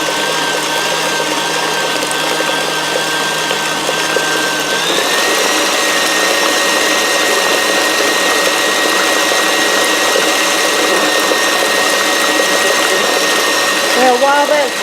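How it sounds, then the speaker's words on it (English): An electric mixer whirs continuously through banana nut bread batter made with walnuts and pecans, its motor whine stepping up to a higher speed partway through and holding steady. "I'm going to turn that up and let it mix a little bit"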